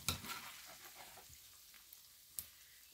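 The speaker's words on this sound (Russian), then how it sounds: "Сначала лучок пожарила." Onions and potatoes fry in a pan, giving a soft continuous sizzle with a few sharp crackles and stirring scrapes, close up and without talk.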